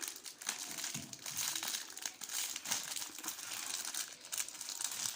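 A plastic bag crinkles and rustles continuously up close as it is handled, with no talking.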